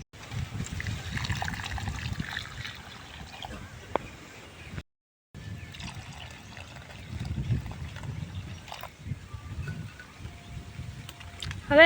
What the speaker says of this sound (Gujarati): હવે આની અંદર હું પાણી રેડી દઉં